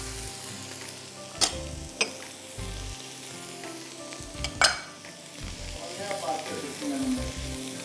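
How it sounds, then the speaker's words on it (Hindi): Onions and mushrooms sauté in a pan with a steady crackling sizzle, punctuated by a few sharp utensil clanks against the metal and some stirring scrapes; no one speaks. "प्याज और मशरूम्स को आपने अच्छी तरह सौटे करना है"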